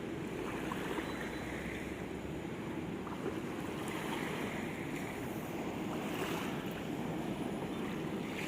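Steady roar of surf on Manila Bay with waves washing and breaking continuously on the shore, broad and rushing, with some wind noise; no voices.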